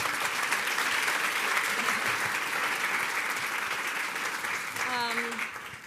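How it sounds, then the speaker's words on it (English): Audience applause for hospitality student prize winners at an awards ceremony, a full sustained roar of clapping from a large crowd, with a brief tonal sound near the end. "So that I think deserves a big applause to all of them."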